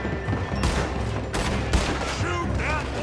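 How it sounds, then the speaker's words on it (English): Gunfire in the Red Dead Redemption 2 video game: dense, overlapping shots and rapid bursts crackle over a busy, loud game mix with no talk. "Gun them down, and let's get the hell out of this place."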